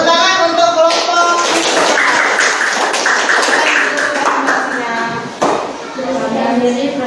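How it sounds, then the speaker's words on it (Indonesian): A group of students claps after a classroom presentation, with dense, rapid, even applause that holds for several seconds and then thins out near the end. "Tepuk tangan untuk kelompok"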